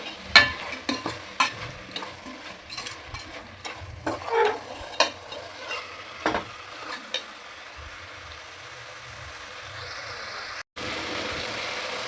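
Chicken biryani masala with salt being stirred and fried, with repeated spoon scrapes and clinks against the pot over a soft sizzle for the first several seconds, then a steadier quiet frying hiss, close by.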